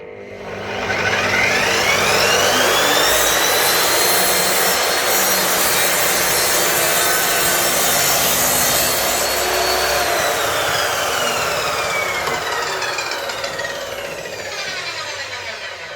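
A VONROC 2000W laser radial miter saw with a 254mm blade makes an angled cut through wood. The motor whine rises and holds under a loud, steady rasp of blade through timber, then fades out as the cut ends.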